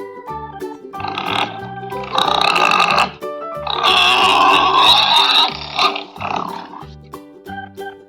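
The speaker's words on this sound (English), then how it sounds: "pig," Pig grunts and oinks in bursts, with loud harsh stretches between short pauses, set among other farm animal sounds in an educational lineup of animal names.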